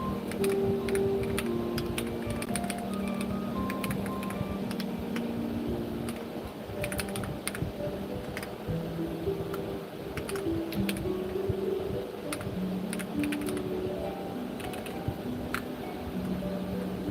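Quiet, rapid clicking of a computer keyboard being typed on in bursts, close but soft, with a faint low hum in the background.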